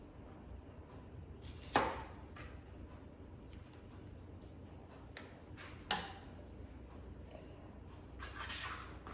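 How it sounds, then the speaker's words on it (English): A knife chopping onions for beef stew, a few sharp isolated cuts against a cutting board, spaced seconds apart and fairly quiet in a kitchen. "I'm gonna go ahead and chop my onions up"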